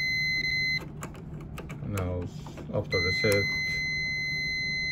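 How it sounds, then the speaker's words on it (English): A continuity-test buzzer on the circuit breaker of a Millermatic 211 Auto-set welder gives a sustained high electronic beep, cuts out while someone speaks, then sounds again steadily to the end. "let's get the buzzers. And we'll do the continuity test."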